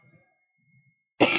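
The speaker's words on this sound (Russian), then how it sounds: "Извиняюсь за мой кашель." A person coughs once, loud and close, in a short harsh burst at the end, after near silence, during a cheerful unboxing of AliExpress parcels.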